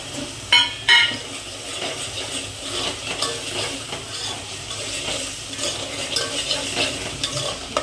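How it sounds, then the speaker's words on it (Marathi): Onion with ginger, garlic and coriander paste stir-fried in oil in a pan, a steady close sizzle with scraping spatula strokes and a couple of sharp clinks early on, no talk. "तिला जरा कच्चापणा जाऊन पर्यंत तिला असं परतवत जायचं."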